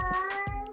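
A female cat in heat yowls in one short, close, drawn-out wavering cry, loud and alone.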